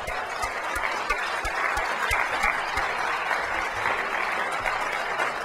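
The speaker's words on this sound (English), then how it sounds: "Applause for all of our great speakers tonight." Steady, dense applause from a crowd, continuous clapping at even loudness throughout with no voices standing out.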